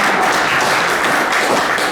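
An audience applauds at a university innovation-challenge kickoff event, a dense, steady wash of many hands clapping for the full two seconds with no talk over it.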